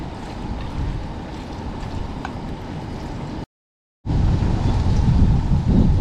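Strong wind buffets the microphone at a truck campsite, a loud roaring gust that drops out briefly and then returns even harder, with no talking.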